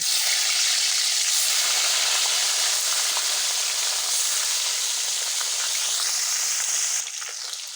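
Fish sizzling in hot oil for a cauliflower and eggplant fish curry, a steady loud broadband hiss of frying that continues throughout and eases slightly near the end, with no voices.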